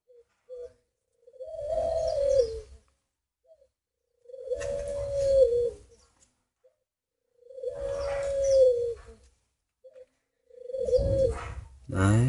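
Spotted doves from northern Vietnam cooing close and loud, four evenly spaced deep, hooting phrases separated by silence.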